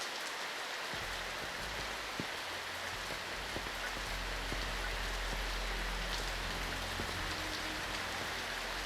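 Steady rain falls throughout a scene in the video game Retro Rewind, a dense even patter of drops on surfaces with a low constant rumble underneath and no voices.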